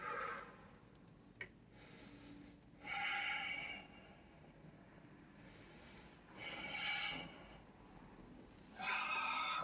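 Slow, deep breaths come from a person stretching on a recovery tool. Three long breathy exhales rise and fall at steady intervals, close and soft, with no talking.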